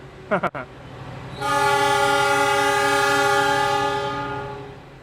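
A passenger train's horn blares loudly at a station after a brief clatter, holding a steady harmonic tone for several seconds before gradually fading, with rail rumble underneath.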